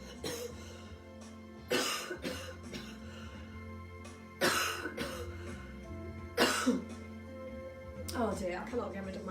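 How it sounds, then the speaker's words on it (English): A woman with a viral infection coughs in several sharp bursts and clears her throat between them, close and fairly loud, with quiet pauses and brief speech-like sounds in between. "I cannot get rid of my cough"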